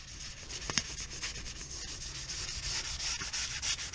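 A BMW M2 muffler is scrubbed to remove dirt and grime, a continuous close abrasive scraping with a few sharper knocks, steady and alone without talk.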